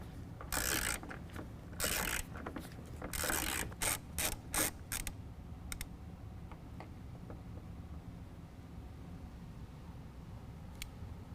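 Ratchet wrench working a headlight mounting bolt loose: several bursts of rapid clicking early on, then sparse single ticks fading into quiet room tone.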